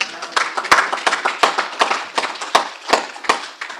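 A church congregation claps during a sermon, with many uneven hand claps and sharper individual smacks rising and falling over a few seconds.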